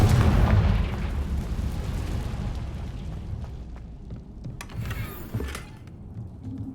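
A Confringo blasting spell erupts in Hogwarts Legacy with a loud, booming burst up front, its rumble trailing off into a low, rolling tail with a few smaller pops near the end.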